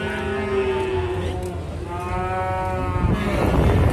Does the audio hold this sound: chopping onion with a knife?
no